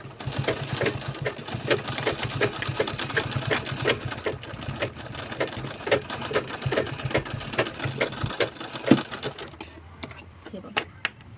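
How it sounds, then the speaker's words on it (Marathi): Sewing machine stitching the side of a small purse, a fairly quiet, even run of rhythmic needle clatter lasting about ten seconds before slowing to a stop, with a voice talking over it. "आता या साईडने देखील आपल्याला शिलाई लावून घ्यायची."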